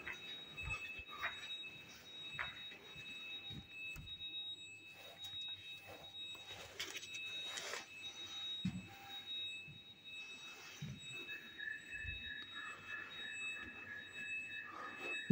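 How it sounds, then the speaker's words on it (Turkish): A smoke detector fire alarm sounding in a building, steady high electronic tones held over a faint, busy background, quiet and distant throughout with no talking. "B1 katından yine duman dedektörüne alarm verildi."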